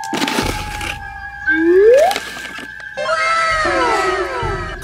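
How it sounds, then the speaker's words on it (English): Cartoonish cat meows with sliding, exaggerated pitch, separated by brief gaps, bright and close, alone without speech. "Cartoon cat."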